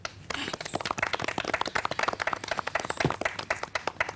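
A studio audience claps for a contestant at a farmers' show event, a dense, steady round of applause that holds throughout, close and moderately loud.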